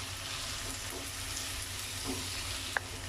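A spoon stirs chopped tomato through bread masala frying in a pan, a soft, steady sizzle with faint scraping and one small click, quiet and close with no talking.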